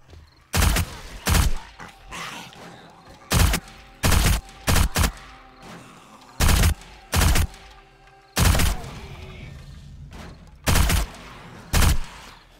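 SMG fire in the game 7 Days To Die: repeated sharp bursts of automatic gunfire, about a dozen short loud volleys separated by brief pauses, close and dominant.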